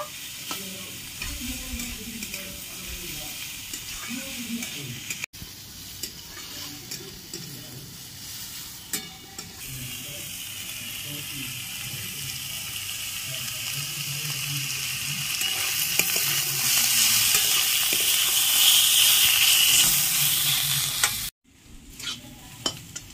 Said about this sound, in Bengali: এবার ভালো করে নেড়ে চেড়ে ভেজে নেব।